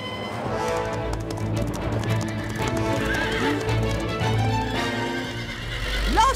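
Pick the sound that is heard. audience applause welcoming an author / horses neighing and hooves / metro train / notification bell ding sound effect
horses neighing and hooves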